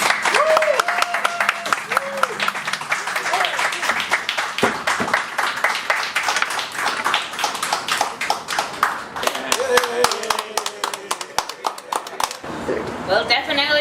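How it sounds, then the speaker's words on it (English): An audience applauds in a continuous patter of clapping after the making of a Garifuna drum, with people talking throughout. "we want to give a great round of applause"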